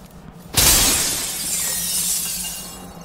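Objects smash and glass shatters loudly in the video game Dishonored 2, one sudden crash followed by a long bright spray of tinkling shards that rings on for a few seconds.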